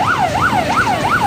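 A fire engine responding to a blaze in Basak Mambaling, Cebu City, sounds its siren in a steady, loud up-and-down wail, repeating about three cycles without pause.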